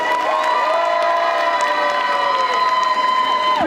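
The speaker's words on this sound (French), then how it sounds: "j'aimerais un tonnerre d'applaudissements pour eux" A loud crowd at a cosplay contest during a Japan manga convention cheers and shouts, sustained and close, with high, tonal, steady voices dominating and little distinct clapping.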